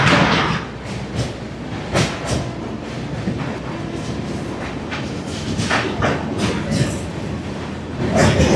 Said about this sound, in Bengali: ট্রেনটা দারুণ একটা কার্ভ নেওয়ার পরে আসবে সেই কাশীর ব্রিজ।